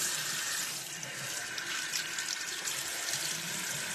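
Tap water runs steadily into a sink as a makeup brush is wetted for cleaning with brush soap, a close, continuous hiss and splash at moderate level.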